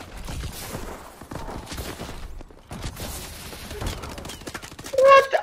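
Rapid gunfire from the Call of Duty Advanced Warfare video game crackles in bursts throughout, fairly faint and mixed with game sounds.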